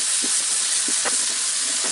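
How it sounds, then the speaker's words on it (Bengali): Gram flour being stirred into a frying egg masala in a pan gives a steady, close sizzle, with soft scraping strokes of the spoon recurring every half second or so. "বেসন দিয়ে আমি এটা একটু নাড়াচাড়া করে নিব"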